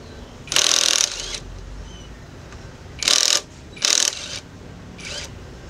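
Two screws are backed out of the brake caliper bracket on a Yamaha Mio scooter, giving bursts of ratcheting and scraping metal clicks, close and fairly loud, separated by quiet pauses.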